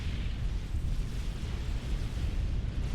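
A unit blows up in the real-time strategy game Supreme Commander: Forged Alliance, a sustained deep rumbling blast that rolls steadily for several seconds with no talk over it.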